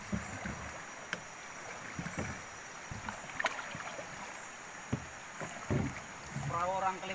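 Soft paddle strokes dip and splash in river water from a wooden canoe at an unhurried pace, with a murmur of voices and light wind noise around the boat, in Kalimantan.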